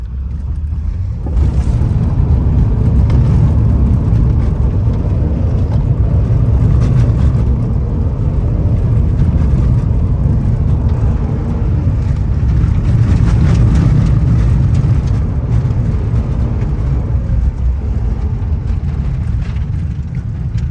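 A BMW E46 fitted with a racecar front suspension drives along a curvy road, its engine and road noise forming a steady, loud low rumble throughout with no talking.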